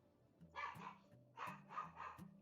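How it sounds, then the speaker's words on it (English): Wendy, a pet dog, barking nearby in a room: four sharp barks, two close together then two more in quick succession, over a faint low hum. "What are you barking at, Wendy?"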